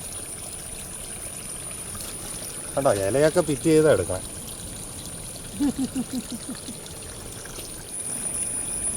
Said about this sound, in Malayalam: പാറക്കൂടെ നല്ല വെള്ളം വരുന്നു